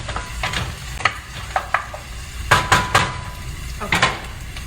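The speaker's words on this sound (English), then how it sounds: "to get the shallots to help them sweat a little bit and really soften" Shallots sautéing in a pan: a low steady sizzle with repeated spoon or spatula clacks and stirring scrapes against the pan, close and distinct.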